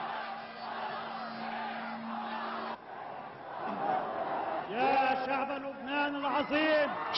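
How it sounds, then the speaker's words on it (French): A young crowd gathered on Place des Martyrs cheers and chants for their general, a muffled mass roar that grows louder with rhythmic shouted chants toward the end, under a voice talking at the start. "Place des Martyrs, la foule frappante par sa jeunesse attend son général."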